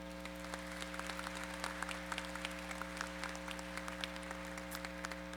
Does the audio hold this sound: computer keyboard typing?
no